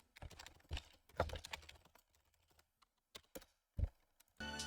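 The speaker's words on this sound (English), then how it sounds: "Loud keyboard noises" A computer keyboard clatters in loud, uneven bursts of keystrokes during a Terraria gaming session, with short pauses between flurries and a brief burst of other noise at the end.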